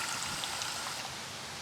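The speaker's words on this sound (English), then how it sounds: "Okay, so I'm just going to water this pot" Water streams steadily from a hose into a potted pepper plant, soaking the soil so it drains out the bottom; a constant close rushing trickle with no talk.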